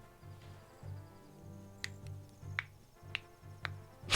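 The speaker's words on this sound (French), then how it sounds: "Un claquement de doigts qui s'entend." Several crisp finger snaps ring out one after another at an uneven pace over a soft, steady hum.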